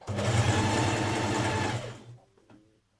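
A sewing machine stitches a casing on a Burda 6310 casual dress in a steady, fast, close whir for about two seconds, then stops and leaves a few faint handling clicks.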